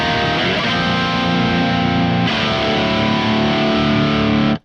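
Heavily distorted high-gain British-style electric guitar tone from a Kemper Profiler amp profile, loud sustained chords ringing alone with a re-struck chord about halfway through.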